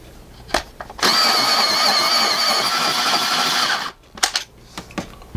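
An AFMAT variable 6 to 12 mm electric pencil sharpener with point control grinds a jumbo-sized pencil, a loud steady whirring buzz lasting about three seconds, with faint clicks and handling knocks before and after.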